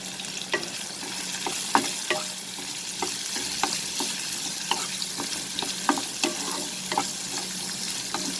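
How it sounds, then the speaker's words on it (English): Onion, garlic, green chili and dried red chilies sauté in a pan, giving a steady soft sizzle broken by regular scraping stirs, moderately close with no voices. "We'll saute this till the onion gets slightly cooked."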